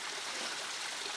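Stream water flows steadily, rushing and trickling close by with an even, constant hiss and no voices.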